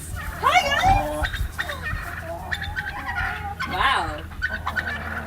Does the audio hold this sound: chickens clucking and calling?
yes